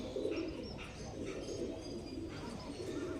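Large adult pigeons give low, burbling coos that run on steadily at close range, with faint higher chirps now and then.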